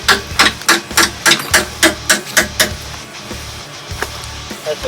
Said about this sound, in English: I even got a better hammer too if that one doesn't work.